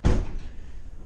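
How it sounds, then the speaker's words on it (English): A delivery van door slams shut in a warehouse loading area, one heavy thud with a hard initial impact that decays into a low rumbling tail. "Make sure you close your doors when you're getting ready to go."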